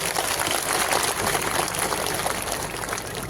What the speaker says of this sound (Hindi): जोरदार ताली बजाओ बाबूलाल मरांडी जी के लिए